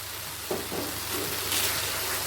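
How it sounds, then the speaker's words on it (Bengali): Sour curd sautéed with spices in a pan over medium-high flame, a short burst of close sizzling with a few stirring knocks. "টক দইটা দিয়েও ভালো করে মশলার সাথে কষিয়ে নেব"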